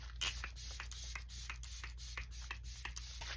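Quiet, rapid bursts of a fine mist of makeup setting spray, repeated quickly several times in a row, close and soft.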